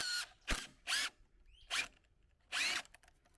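A power drill backs screws out of old wooden picnic table boards, giving five short, close whirring bursts separated by brief pauses.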